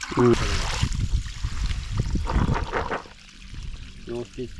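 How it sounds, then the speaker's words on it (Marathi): Water splashing and pouring as a clay pot is rinsed, with people talking over it and short bursts of running water. "मडका धुवून घेऊया स्वच्छ"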